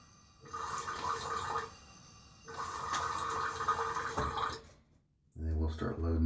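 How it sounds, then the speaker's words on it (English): Water splashed onto a face at a sink before a wet shave, two bursts of running, splashing water separated by a quiet gap, then a brief lower-pitched slosh at the end, fairly close. "I'm going to go ahead and get a little water on my face."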